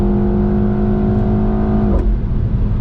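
A 2025 BMW X1 M35i in sport mode pulling hard, its engine droning with a steady rising tone from inside the cabin, loud and continuous, then a quick shift near the end.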